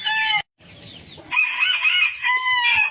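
Pet chickens and turkeys on a small farm cluck and crow loudly and close, with a short break before long, overlapping crowing calls.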